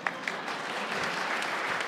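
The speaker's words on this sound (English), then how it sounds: "Y'all can give us a round of applause." A conference audience applauds after a presenter shares progress on reducing infant mortality, steady clapping that fills a short stretch at moderate distance, with no voices standing out.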